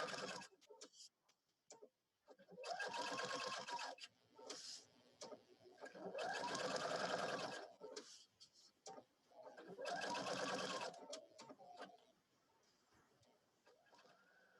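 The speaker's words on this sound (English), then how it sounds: "Your goal is that your satin stitch will cover up this straight stitch." A sewing machine satin-stitches closely along an applique edge in three steady humming runs of rapid needle chatter, separated by quiet pauses and faint clicks, close and moderately soft.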